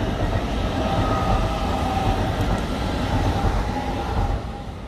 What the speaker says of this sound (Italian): E quello è un ETR400 che spara a 10 MW.